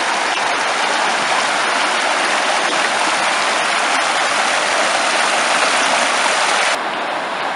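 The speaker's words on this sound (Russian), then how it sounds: "прям здесь мини-водопады" The Pshekha river rushes over small rapids and mini waterfalls in a continuous, dense hiss of churning water that stays loud and even throughout, close to the listener.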